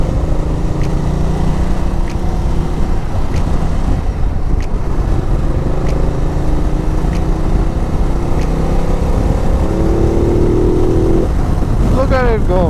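A Ducati motorcycle engine drones loud and continuous from the rider's seat, rising in pitch as it accelerates, with wind rush throughout.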